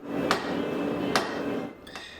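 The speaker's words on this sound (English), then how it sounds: "it's time to bring out the sledgehammer" A sledgehammer strikes steel during forging, giving two sharp metallic clangs about a second apart over a steady background roar, with a fainter third hit at the end.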